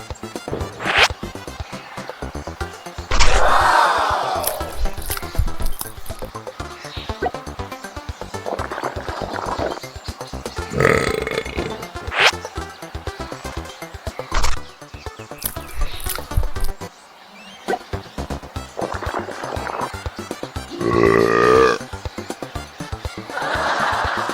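Cartoon bird heads of a hydra belch in an animated show, with a string of burps, comic squeaks, thwacks and chuckling sounds scattered irregularly over about twenty-four seconds, loud and close.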